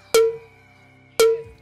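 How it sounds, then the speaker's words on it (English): A distorted tom percussion sample strikes twice, each hit a sharp loud attack with a ringing, metallic tone that quickly decays, the two hits about a second apart with quiet between. "It's like some sort of distorted tom sample or something"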